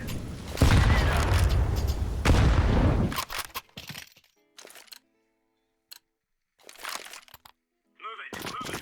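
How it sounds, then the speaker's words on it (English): A grenade in a tactical shooter game on a dark, rainy Italy map bursts loudly in a long, crackling blast, then short sharp game sounds and a voice follow after a gap. "Throwing a grenade. Grenade out."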